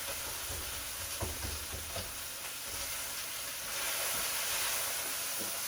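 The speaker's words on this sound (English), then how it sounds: "Now you want to sweat your onions." Chopped onions sweating in a frying pan for a healthy breakfast, giving off a soft, steady sizzle and hiss that swells slightly toward the end, with a few faint clinks from stirring.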